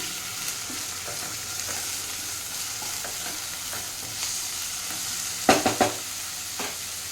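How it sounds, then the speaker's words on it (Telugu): Ginger garlic paste fries and is mixed into onions in a pan for dhaba-style methi chaman, a soft steady sizzle with occasional spoon scrapes and a short cluster of louder clinks near the end, no voices. "ఇప్పుడు ఇక్కడ అల్లం వెల్లుల్లి పేస్ట్ వేస్తాను ఇందులో ఒక టీ స్పూన్ వేస్తున్నాను మిక్స్ చేద్దాం"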